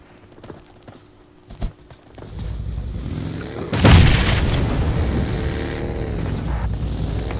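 A grenade blast in a Jawans squad scrim match, a sudden loud boom that rolls into a long rumbling tail of debris and ambient battlefield noise, following a few sharp clicks and thuds.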